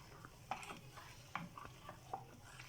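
A spoon mixes yogurt into boiled milk in a plastic bowl, giving soft, faint stirring swishes and a few light taps against the sides at an irregular pace, with no voices, as homemade dahi is set.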